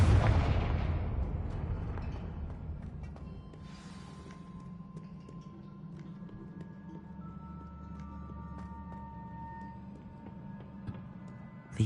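Confringo fire spells explode in the video game Hogwarts Legacy, a deep booming blast up front that rumbles and fades into a low lingering roar with faint crackles behind.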